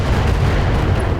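Heavy mech weapon volley slamming into a Marauder in BattleTech, a dense, continuous barrage of booming low thuds and crackling impacts, loud and steady throughout with no talk.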